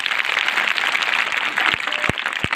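Audience applause for a woman school principal at a Rajyoga meditation training held at an intercollege, a continuous wash of clapping with a few sharper, louder claps standing out near the end.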